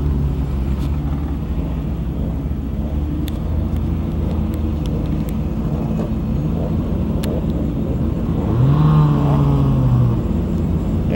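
Race cars at a California speedway after rain, before the main race, a full field rumbling at a steady distance with engine drone throughout and one engine note rising and holding near the end.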